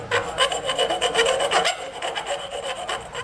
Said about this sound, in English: I'm gonna just file this down and get all these burrs off